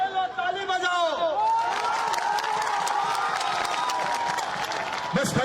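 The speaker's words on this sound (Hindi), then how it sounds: "ताली बजाओ।" A large crowd at a political rally in Bihar applauds and cheers, dense clapping and shouts rising after a speaker's voice, loud and sustained, with voices mixed in.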